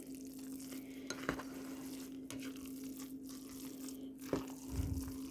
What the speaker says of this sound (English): we're going to add our tofu. And we're just going to stir that through a little bit